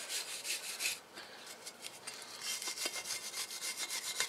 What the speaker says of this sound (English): a little wire brush and clean off that surface where the sliders go